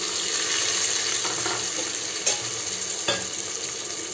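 Tomatoes go into a hot, sizzling pan, sending up a loud, steady crackle of frying. Short bursts of stirring and scraping rise from it, and no one speaks.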